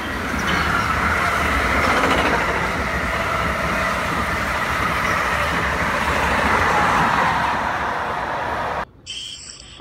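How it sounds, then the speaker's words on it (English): A train roars past close by at North Elizabeth, on a New Jersey Transit and Amtrak line, a loud continuous rumble of wheels and cars that holds steady before cutting off abruptly near the end. "a train?"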